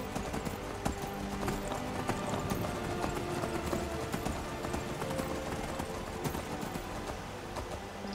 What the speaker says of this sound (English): So much better with a horse.